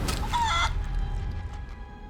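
A brief squawking chicken cry from Divinity: Original Sin 2, heard after a character is polymorphed into a chicken, sounding loud and close at the start and then fading into quiet game ambience.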